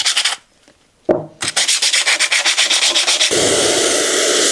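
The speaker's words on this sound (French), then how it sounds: "on va poncer chaque plaquette pour retirer" A small plate is sanded by hand to remove impurities, with a quick pass, a pause, then a steady run of loud, rhythmic rasping strokes close to the microphone that merges into continuous scraping.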